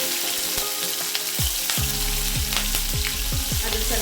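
Crushed garlic fries in hot oil along with crackling mustard seeds, cumin and green chillies for a tomato curry, a loud, close, continuous sizzle with sharp pops and spatters throughout.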